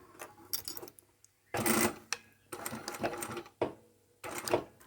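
A sewing machine back-stitches a fabric glasses case in short bursts, its needle whirring fast for a second or so at a time, then pausing, then starting again, close up with no voices.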